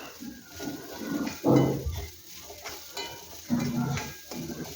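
Grated coconut stirred and roasted in a hot pan for a banana-oats snack, giving two short bursts of scraping and rattling against the pan over a faint sizzle.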